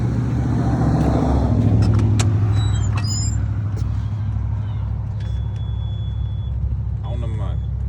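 Peterbilt truck diesel engine running steadily after a starting fault was fixed, a loud, close, constant rumble throughout, with a voice talking over it and a few short chirps and squeaks.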